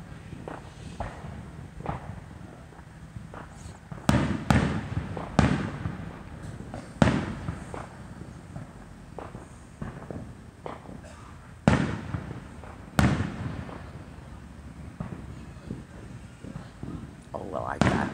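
Fourth of July fireworks bursting in a series of booms and sharp cracks, some near and loud, others more distant, with crowd chatter in between.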